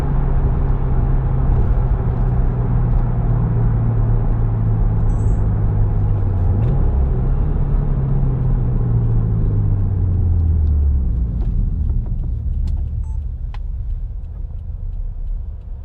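A turbocharged 268 hp 2018 Subaru WRX Limited Edition accelerates in first gear, its loud, steady engine rumble heard from inside the car with a sweeping whine, easing off near the end.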